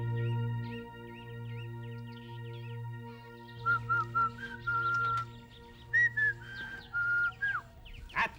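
A person whistles a short series of wavering, chirpy notes, with quieter tonal whistling at first and then louder, clearer phrases that come and go, alone without talking.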